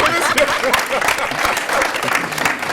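A studio audience at a live television show applauds, dense rapid clapping from many hands sustained throughout at fairly close range.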